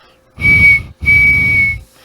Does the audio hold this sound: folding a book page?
no